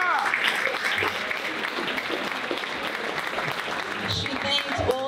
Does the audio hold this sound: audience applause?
yes